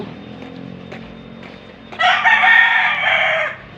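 A rooster crows loudly and close by, one long drawn-out call rising over quiet outdoor background noise.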